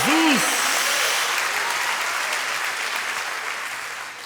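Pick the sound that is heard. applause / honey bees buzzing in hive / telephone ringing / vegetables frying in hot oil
applause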